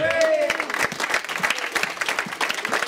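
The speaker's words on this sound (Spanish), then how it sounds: "Denle un aplauso al Rey" Church congregation applauding, a steady wash of many hands clapping with a voice rising over it at the start and a crowd murmur underneath throughout.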